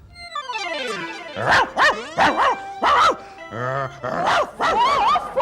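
A voice imitates a dog, yelping and barking in a rapid string of loud, close bow-wows over a brief whining lead-in.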